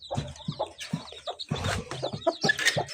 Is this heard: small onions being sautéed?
no